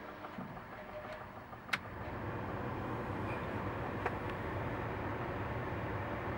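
A newly installed cabin heater blower motor in a VW Touran whirs continuously at moderate volume after a brief click, with a faint tick partway through.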